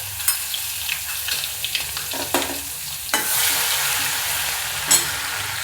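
Chili and garlic fry with cumin in a hot pan, giving a close, steady sizzle broken by sharp stirring scrapes and clinks.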